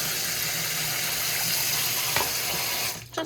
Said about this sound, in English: Now we're going to go ahead and add some water.